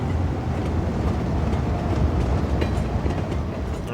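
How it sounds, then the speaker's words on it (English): A train rolls past in the Cities: Skylines II game, a steady low rumble with faint clatter holding at moderate volume, no voices. "That is my train."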